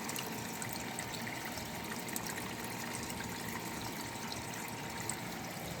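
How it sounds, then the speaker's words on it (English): Water flows and trickles steadily near a cow pen on a dairy farm, a soft, continuous wash of running liquid at low volume with no voices. "So as long as that water is flowing."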